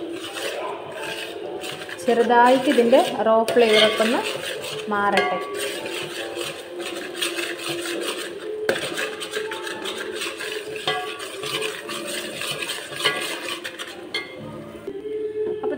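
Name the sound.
sautéing masala with bay leaf and cashew paste in pan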